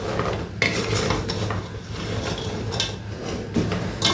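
Spoon scraping and clinking against a pan as a sticky sugar coating for milk mandazis is stirred on a still-lit cooker, a steady close scrape punctuated by several sharp metallic knocks.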